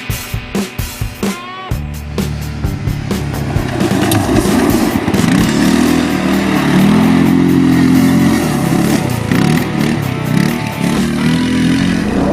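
Goes Cobalt 550 Limited EFI quad ATV engine running loud and close, a steady throbbing motor drone with rising and falling revs after a few sharp knocks at the start.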